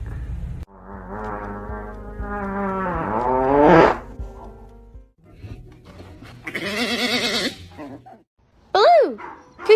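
Dogs put in timeout howl, whine and whimper in drawn-out rising and falling cries, close and loud, in several bursts separated by short pauses.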